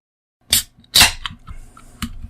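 A beer can cracked open: a sharp metallic snap followed by a louder pop and hiss, then small clinks and a final short tap, all close by with no talking.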